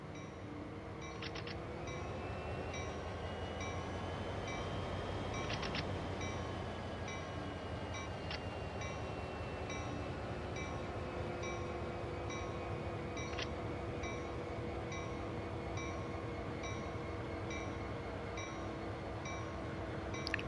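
A freight locomotive in Train Sim World 4 on the Sand Patch Grade route gives a steady, loud diesel drone with a sustained engine rumble and faint metallic clinks throughout, no talking.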